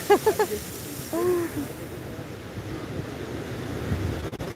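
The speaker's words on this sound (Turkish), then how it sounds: "Burası okyanus." Ocean surf and gusting wind at the Kiama blowhole on the New South Wales coast, a continuous rumbling wash with wind buffeting the microphone and brief voices at the start.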